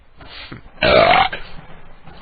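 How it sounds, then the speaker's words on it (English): One loud, raspy belch bursts out for about half a second, with quieter murmuring before and after. "I think that was the first major belch of the night."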